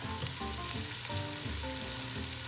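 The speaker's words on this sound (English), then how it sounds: "And go ahead and just stir it all together." Ground taco meat seasoned with cumin fries over medium heat in a pan, giving a dense, continuous sizzle with soft stirring scrapes. A steady tonal hum runs beneath throughout.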